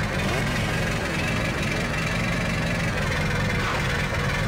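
A big red tractor engine runs in the Stubbs the Zombie video game, a steady, loud low rumble with a continuous mid-range drone and no pauses.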